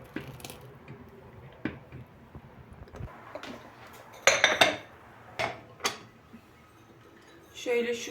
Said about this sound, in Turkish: Şöyle şu güveç kapları alacağım.